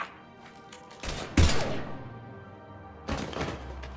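Gunfire in Mass Effect 3 Legendary Edition comes as a few sharp, separated blasts, one heavy shot followed by a burst, with quieter gaps between them.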